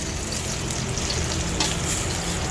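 Bisugo fish, scales still on, frying in hot oil in a pan: a steady, dense sizzle and crackle runs unbroken throughout at close range, with no talking.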